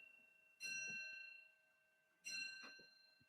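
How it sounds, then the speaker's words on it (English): A grandfather clock chimes twice, each bright bell strike ringing out and slowly fading, heard faintly from a distance in a quiet room. "the bells. That's my parents' grandfather clock"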